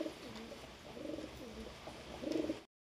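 Pigeons coo softly nearby in repeated low, throaty phrases, with steady rain hissing quietly in the background.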